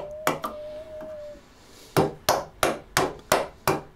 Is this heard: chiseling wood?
yes